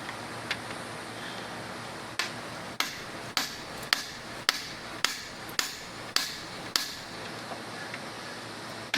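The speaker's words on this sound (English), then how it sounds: "Mini sledge." A mini sledgehammer strikes a part on a 1997 Johnson 115 OceanRunner outboard motor, about a dozen sharp metallic blows in a steady, quickening rhythm over a faint background hiss.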